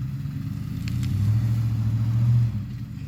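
A Ford F-150 pickup strains to pull a tree, its engine droning low and steady while the rear wheels spin, the revving rising and holding for about a second before easing off.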